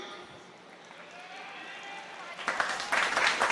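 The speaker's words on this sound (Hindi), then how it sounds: "हल्की तालियां आ रही हैं आपकी" Light applause from the audience at an Urdu mushaira in India, a soft patter of clapping that swells near the end, with a murmur of crowd and voices underneath.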